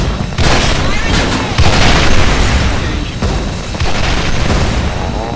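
A frag grenade blast in the Special Force 2 shooter, heard in a close-quarters match at the WaterSide map: loud, dense booming bursts with gunfire texture that swell twice and fill the whole clip, with players talking over it.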